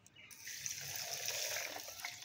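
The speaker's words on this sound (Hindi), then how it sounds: "और अब इसके अंदर मैं तकरीबन जो है 2 गिलास पानी ऐड करूँगी।" About two glasses of water are poured into a mixture of raw mango and black salt for sharbat, a bright continuous splashing stream that begins after a brief pause and keeps up steadily to the end.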